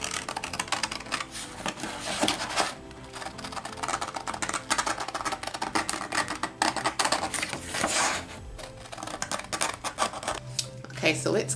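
Scissors snip and rustle around a printed circle image as it is cut out of paper for scrapbooking. The clicks are quick and close, in uneven bursts with soft paper rubbing between them.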